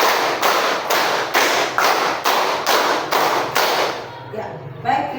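A class claps in unison, about eight loud, evenly spaced group claps in a steady beat, after which the clapping stops and only faint room sound and a soft knock remain.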